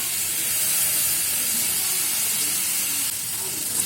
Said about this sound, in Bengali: আর মশলার লগে চিকেন আর অল্প সময় ভাজুন।